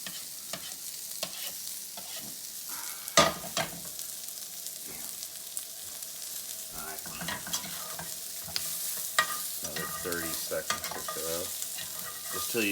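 Garlic sizzling in a hot pan alongside pork steak for peanut curry, a steady close frying hiss broken by scraping stirs and clacks of a utensil against the pan, with no talking.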